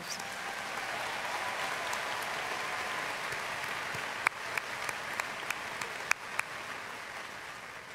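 Steady applause from a college commencement audience fills the space, with a few sharp claps and whistle-like pops standing out near the end.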